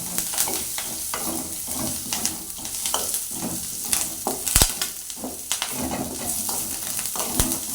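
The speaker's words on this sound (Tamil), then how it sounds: "நல்லா செவர வதக்கணும்" Sorrel leaves (pulicha keerai) sauté in a pan with a steady sizzle and frequent stirring scrapes and clinks throughout, close and alone.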